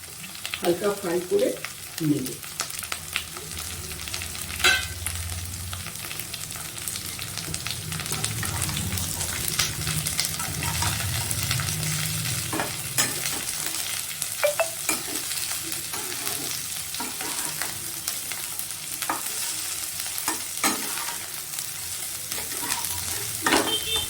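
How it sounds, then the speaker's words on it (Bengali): Sliced capsicum and cabbage sizzle in a hot pan while a spatula scrapes and stirs them, a continuous frying hiss broken by repeated clatters of stirring. "এগুলোকে আমি হালকা ফ্রাই করে নেব।"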